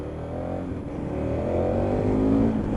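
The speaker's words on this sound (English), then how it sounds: "I just want to know what this engine's saying" A 2015 KTM 1290 Super Adventure motorcycle engine revs steadily and rises in pitch, a loud, close rumble with the motor pushed harder toward the end.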